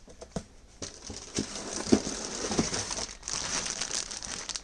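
Plastic shock oil bag for RC racing gear crinkles and rustles as it is handled close up, a steady stream of crisp crackles with a few sharper taps, no talking.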